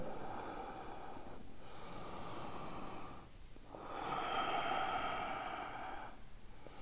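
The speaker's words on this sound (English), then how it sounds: "Take three deep breaths here." Slow, deep breaths during a vinyasa yoga session: soft airy inhales and exhales rise and fall in a calm rhythm, quiet and close with no talking.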